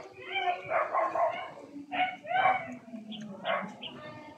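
A dog gives several short yipping barks and whimpers in quick bursts, close by, with a voice faintly underneath.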